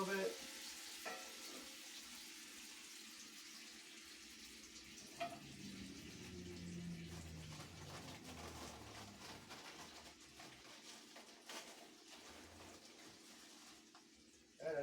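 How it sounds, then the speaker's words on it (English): Mexican style chili frying in a pot and being stirred, a steady sizzle with soft scraping and clinking of the spoon throughout, fairly close and moderately quiet, with no talking. "Kind of stir it up a little bit."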